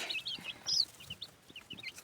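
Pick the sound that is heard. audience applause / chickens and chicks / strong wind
chickens and chicks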